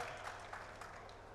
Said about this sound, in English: I think we deserve a big clap for that